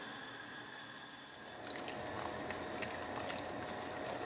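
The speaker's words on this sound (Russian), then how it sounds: "Узвар закипел, даже прокипел минуту." A pot of uzvar, a dried fruit compote, simmers on medium-low heat, giving a steady soft hiss of bubbling with small crackling pops that grow a little busier halfway through.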